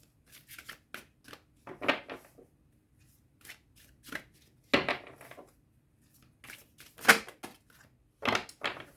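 Tarot cards being shuffled and drawn by hand, several short crisp riffles and flicks in irregular bursts with quiet pauses between them, close and clear, with no speech.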